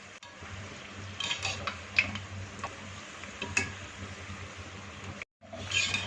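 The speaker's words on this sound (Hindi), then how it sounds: "ऑयल को मीडियम हीट पे गर्म कर लिया है। इसके साथ ही समोसों को इसमें डाल देंगे।" Samosas frying in oil over medium heat, a steady broadband sizzle with occasional small ticks and bubbles, continuous and close, briefly cutting out near the end before resuming.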